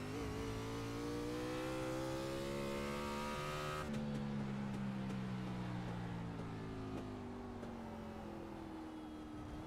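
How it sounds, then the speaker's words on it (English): A race car engine on a road course revs in rising, sustained pulls, then drops abruptly and climbs again as the throttle is blipped, droning steadily at a moderate distance with no voices. "you want to pump that gas pedal, get the revs up, and that'll allow you to shift into that lower gear"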